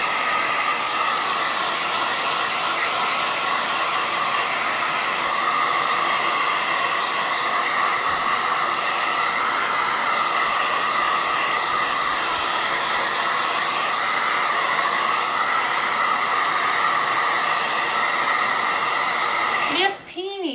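Hair dryer blowing continuously on paint on a hand-lettered tree farm sign, a loud steady whir lasting throughout, cutting off abruptly at the end.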